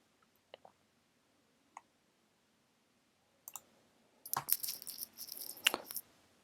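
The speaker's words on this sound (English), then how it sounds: "I'll type that into my calculator now" Buttons pressed on a TI-84 calculator: a few sparse, quiet clicks at first, then a denser run of rapid tapping and clattering keypresses near the microphone in the last two seconds, with no talking.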